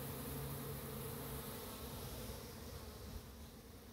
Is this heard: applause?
no